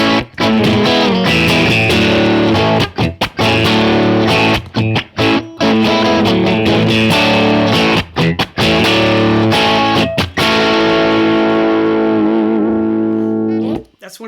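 Stratocaster played through a UAFX Enigmatic '82 Overdrive Special amp, loud crunchy overdriven chords and riffs with short stops between phrases, ending on a ringing chord that fades out.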